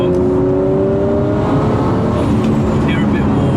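Nissan Skyline R34 GTR engine driving along, a steady loud drone with rising whine of turbo spool and a low burbling exhaust throughout, close and continuous.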